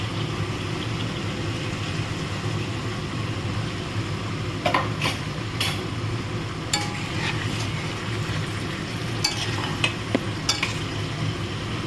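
Yogurt thinned with a little water is stirred into sizzling chicken in a pan, with a constant frying hiss broken by scattered sharp scrapes and clinks of the spoon against the pan.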